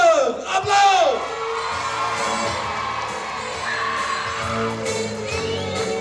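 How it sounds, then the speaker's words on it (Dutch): A crowd at a 1994 playback show with a circus whoops and cheers for a singer, a loud shout up front, then sustained crowd noise with music playing under it. "Mag ik een grandioos applaus voor de allermooiste zanger van de wereld."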